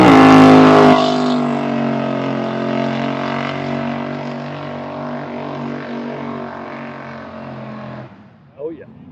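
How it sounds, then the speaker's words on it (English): A car doing a burnout as it leaves an event lets out a loud, close, sustained engine roar that eases slowly, then cuts off near the end, leaving a brief faint noise. "I think everybody that's leaving here is doing burnouts"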